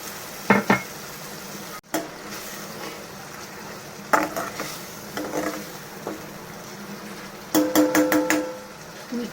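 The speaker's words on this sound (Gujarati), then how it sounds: "હવે આપણે જે બધા મસાલા, લસણ બધું મિક્સ કર્યું હતું ને એ નાખી દઈએ." Spice mix and garlic hit a pan of cooked tomatoes for a Kathiyawadi dal, giving soft steady sizzling with several sharp stirring and scraping clatters of a utensil against the pan.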